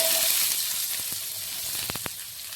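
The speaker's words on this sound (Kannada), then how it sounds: "ಸಾಸಿವೆ, ಜೀರಿಗೆ, ಉಳ್ಳಾಗಡ್ಡಿ ಹಾಕೋಬೇಕ್ರಿ." Mustard seeds, cumin and onion sizzle loudly in hot oil, a close, steady hiss broken by a few quick clicks and crackles, with no one talking.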